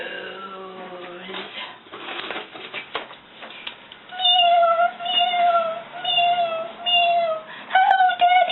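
Several kittens in a basket mew in a string of short, bright cries that follow one another in quick succession, with a voice talking before they begin.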